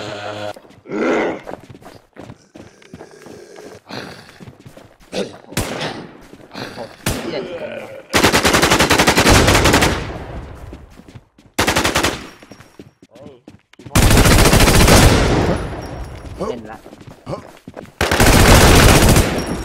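Gunfire in the survival shooter Infestation, with long loud bursts of automatic fire alternating with footsteps and thuds, while players talk excitedly throughout.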